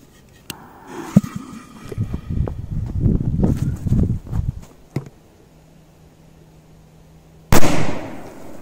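Firecrackers crackle in a rapid scattered burst, then after a pause a single loud bang rings out close by.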